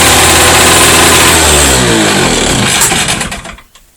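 A Volvo Penta Sail Model 39 outboard engine runs loud and close, its pitch sweeping as it revs before the sound cuts out near the end.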